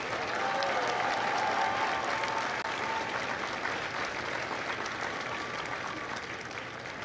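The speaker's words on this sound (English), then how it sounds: "Applause for the company staff of Company G." A crowd applauds steadily at a Marine recruit graduation ceremony at MCRD San Diego, a sustained wash of clapping that eases slightly toward the end.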